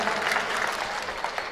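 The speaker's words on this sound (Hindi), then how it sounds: "ताली बजा दो यार" Hindi comedy poetry show audience bursts into dense, steady applause, loud and continuous for the short stretch, with no talking over it.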